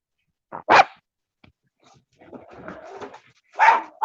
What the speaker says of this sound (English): They bark once, twice, and then they shut up.